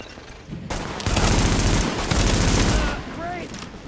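Dense automatic gunfire bursts from The Division video game, loud and sustained for about two seconds with some higher whistling game effects after, a voice briefly audible.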